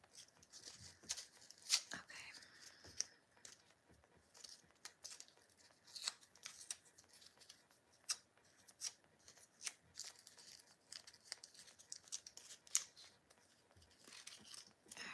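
Adhesive tape torn and pressed on at a jewelry bench while making a star ruby ring, faint scattered crinkles and short rips spread irregularly through a quiet room, with a voice now and then.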